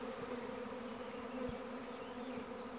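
A honeybee swarm arrives at a hive, a dense, faint, steady buzzing drone of many bees with no voices over it.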